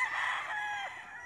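A rooster crows once, a single drawn-out cock-a-doodle-doo at moderate distance with no other sounds around it.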